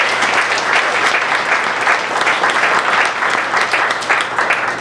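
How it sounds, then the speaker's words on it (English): An audience at a school board meeting applauds a graduating student: loud, dense, continuous clapping filling the whole stretch, with no talk over it. "So, Paulo, give a round of applause."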